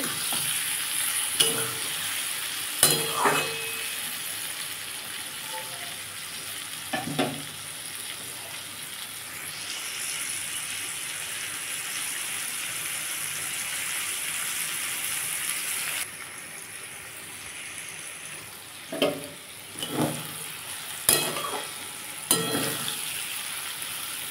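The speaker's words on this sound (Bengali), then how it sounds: "আমার এটা অনেকটাই ভাজা হয়ে এসছে" Potatoes and yardlong beans fry with turmeric and salt in a pan, a steady close sizzle broken by occasional scraping, clattering stirs, with no talk.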